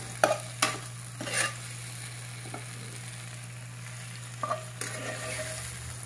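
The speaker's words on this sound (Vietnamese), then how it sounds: "Xào cho phần cà chua này nó hơi chín một chút" Tomato stir-fried in a pan with seasoning and a spoonful of chili sauce for a vegetarian green-banana dish, a spatula scraping now and then over a low steady sizzle and a constant hum, with no voices.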